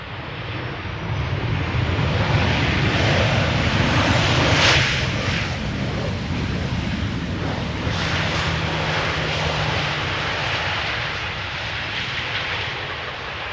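A Boeing 737-800 airliner arrives overhead at Schiphol's Polderbaan, its engines a loud, broad roar that swells near the start and then stays sustained, with no voices over it.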